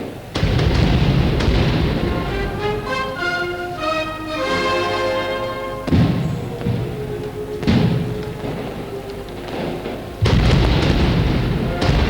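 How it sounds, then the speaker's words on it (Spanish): Fireworks castillo during the 1987 Valencian Fallas cremà, the final castillo set off with cañas: loud booms and bursts repeating through the whole stretch, with a crowd roaring underneath and sparkling crackle between the blasts. "llegan esos momentos apoteósicos del castillo de fuegos artificiales"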